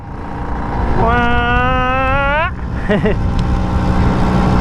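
A 1976 vintage Vespa two-stroke scooter engine runs with a steady, loud, close buzz. Someone speaks over it, and a brief tonal whine rises partway through.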